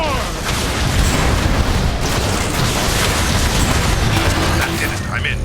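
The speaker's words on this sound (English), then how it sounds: "There! Blast the power cells! I get to shoot more stuff!" Blasted power cells explode in Transformers: War for Cybertron, a dense continuous roar of booms and crackling bursts filling the whole stretch at steady high loudness with no clear gaps.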